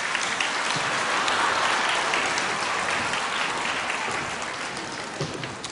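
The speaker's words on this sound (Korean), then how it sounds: "박수로 한번 맞아주시기 바랍니다." A church congregation applauds to welcome performers before a special hymn, a thick, steady wash of clapping that holds for several seconds and fades slightly toward the end.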